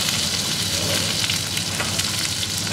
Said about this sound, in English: we want them to look like they've been roasted almost in this pan